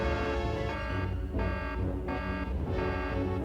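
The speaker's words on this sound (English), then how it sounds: "My old parachute must have blown across an alarm sensor" An alarm sensor blares in an animated action cartoon, a steady tonal alarm ringing loudly and continuously with short pulsing breaks throughout, alone without voices.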